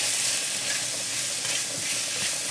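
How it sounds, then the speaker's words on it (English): Onions frying with spices and green chilies in a pan, a steady close sizzle and crackle running alone without pause. "So while my onions are frying this side"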